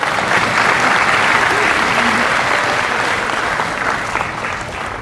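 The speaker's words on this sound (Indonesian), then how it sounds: "Tepuk tangan dulu, Bang." A large crowd at a PSI party event applauds the board chairman, producing a thick, loud, continuous wash of clapping that holds steady and eases off slightly near the end.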